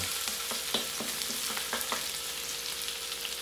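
Garlic with chili sizzles and fries in a pan as it browns, a steady close hiss broken by scattered crackles and light stirring taps, with no talking.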